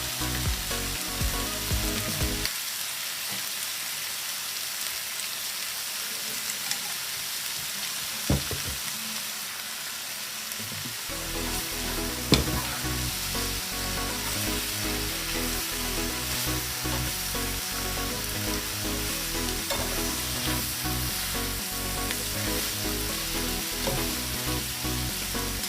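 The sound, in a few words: stir-frying yakisoba noodles with oyster sauce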